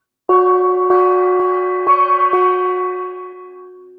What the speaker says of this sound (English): A gong hit for you all.